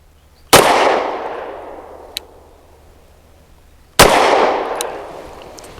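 Two loud, sharp handgun shots from a BUL Armory SAS II TAC 4.25 firing Black Hills 124-grain jacketed hollow points, about three and a half seconds apart, each ringing out in a long reverberant tail, with a small click between them.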